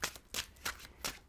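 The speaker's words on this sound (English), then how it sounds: "1 more shuffle." Close, steady shuffling of tarot cards, four distinct papery swishes in an even rhythm across little more than a second, alone and clearly audible.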